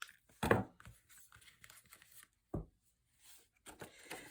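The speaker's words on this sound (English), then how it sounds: "Come in with your scissors and trim out these corners." Scissors snipping paper corners for a desk folio craft project, a few crisp, quiet cuts spaced apart with soft paper rustles between them, close and isolated.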